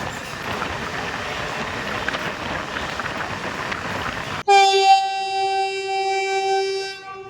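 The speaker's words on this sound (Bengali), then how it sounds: "সামনে থেকে আসছে double two eight nine six Puri Howrah Vande Bharat express" A rumbling train runs steadily, then a loud, sustained horn blares and holds for several seconds as the Puri–Howrah Vande Bharat Express approaches Balichak railway station.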